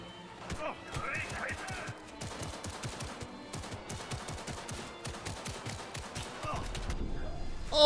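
Rapid gunfire in the video game Cyberpunk 2077 rattles off in quick, sharp bursts, fairly faint and close together, running through most of the stretch before a louder thump at the end.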